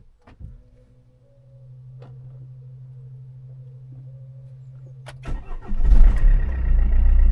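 A Fiat engine cranks and catches near the end, rising to a loud, close, rough running idle after a long steady electrical hum and a few clicks from the car.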